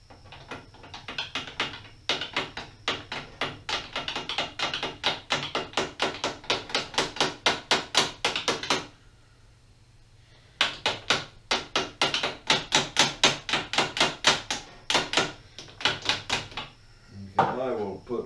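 A tapered pin is hammered into a Pratt & Whitney Model B 12 x 30 lathe, sounding as long runs of rapid, evenly spaced metallic taps, loud and close, with a pause midway before the tapping resumes.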